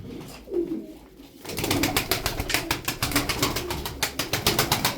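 Domestic play pigeons at their coop coo close by in a quick, repeated pulsing rhythm that carries on steadily after a brief quieter moment.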